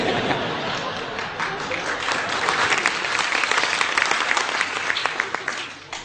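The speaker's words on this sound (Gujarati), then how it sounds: "આ તાળીઓ વગાડી અનુભવી પાસે." An audience claps together in a sustained burst of applause at a live storytelling performance, dense and fairly close, with no words spoken.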